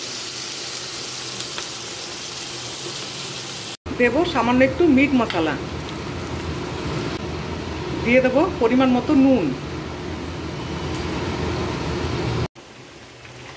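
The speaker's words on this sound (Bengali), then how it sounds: "বাইরে একদম ঝমঝমিয়ে বৃষ্টি হচ্ছে।" Heavy rain pours steadily outside a home kitchen, a dense continuous hiss running under a voice as she talks while cooking chicken.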